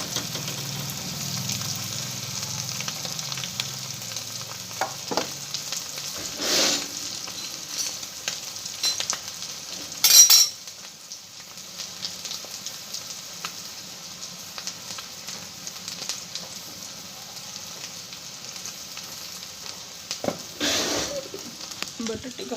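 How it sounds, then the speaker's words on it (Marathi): Potatoes frying in oil with turmeric and chili powder, a continuous low sizzle broken by occasional spoon scrapes and clatters against the pan, close by. "आता ह्याच्यात मैत्रीनं हळद घालायची तेलामध्ये मिरची पावडर घालायची बटाटे घालायची"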